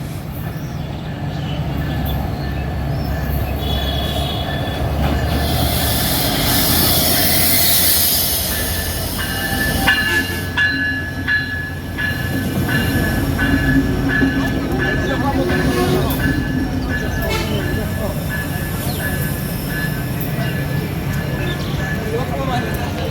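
Chitra Express and Sundarban Express trains pass at a rail station, a long loud rumble of railcars with rattling wheels, hiss and squealing metal over nearly half a minute, while a person talks over it.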